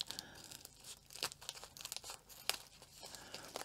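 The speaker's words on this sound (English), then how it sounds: "I want to make sure I'm not going to cut into the diamond painting" Plastic bag holding a diamond painting canvas being cut open, giving quiet crinkling and tearing plastic sounds with sharp snips and rustles scattered across a few seconds, close up and with no talking.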